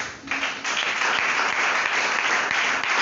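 A church congregation at an evening worship service bursts into loud, sustained applause and cheering, a dense continuous roar of clapping that swells after a brief dip and holds steady to the end.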